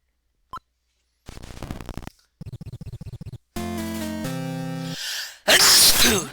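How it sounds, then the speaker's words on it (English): Sneezing beside retro NES Monopoly game music: one sharp, loud sneeze bursts out near the end, close and clear over the chiptune tones. "Sorry for sneezing."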